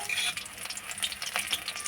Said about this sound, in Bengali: এভাবে দিয়ে আমি উল্টে পাল্টে ভেজে নেব।